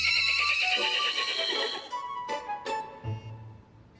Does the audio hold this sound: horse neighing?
yes